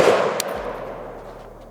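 An unsuppressed .308 rifle fires one sharp, loud shot outdoors, and the report rings and decays over about a second and a half.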